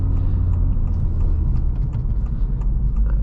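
A 2024 Honda Civic Type R with a six-speed manual, its engine a steady, close low rumble heard from inside the cabin while driving, with no distinct blips standing out and no talking.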